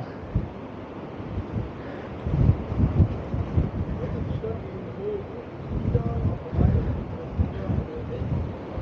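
Steady outdoor wind buffeting a microphone at a caravan site in Tarifa, with low rumbling gusts that swell and fade, over a broad roar like distant surf.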